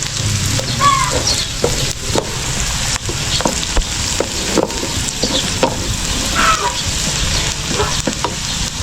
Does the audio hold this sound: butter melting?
yes